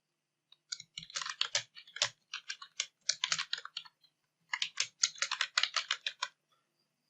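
Computer keyboard typing at close range, quick bursts of crisp key clicks in uneven runs with short pauses between phrases, alone without talk.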